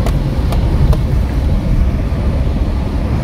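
A car jolts along a potholed mountain road in Uttarakhand, its steady low engine and road rumble dense and continuous, with a few sharp knocks early on and no voices.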